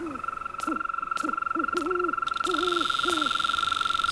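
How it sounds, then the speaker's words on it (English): Frogs croak in a steady series of short, rising calls on a moor in the mystery game Nancy Drew: The Curse of Blackmoor Manor, set against a constant high insect-like drone. "Those crickets were frogs."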